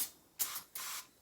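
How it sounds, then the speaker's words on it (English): Three quick hissing bursts of a household aerosol spray, black cherry scented for freshening bins, the first short and the last two longer and steady, close and clear with no one talking. "just a light spray"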